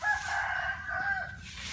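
A rooster crows once in a long, loud, drawn-out call with a clear wavering pitch, heard fairly close and alone.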